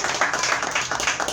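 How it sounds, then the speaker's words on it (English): Comedy open-mic audience clapping: a brief, dense patter of many hands applauding together, fairly close and loud. "So clap for everybody that went up right now"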